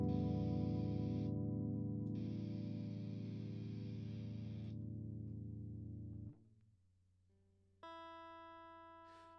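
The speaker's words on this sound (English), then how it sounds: "now it jumps back and forth from clean to distortion" An electric guitar through AmpliTube, switched by MIDI pedal, rings out a chord with heavy distortion, then cuts to a quieter pause before a clean, bright tone takes over.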